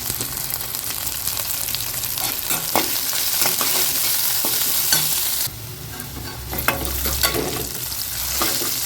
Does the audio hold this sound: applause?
no